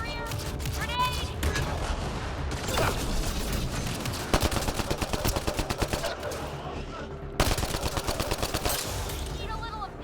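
Rapid bursts of automatic gunfire rattle continuously in a Mass Effect Andromeda firefight at a labor camp, with sharper blasts punctuating the sustained shooting and game voices calling out over the din.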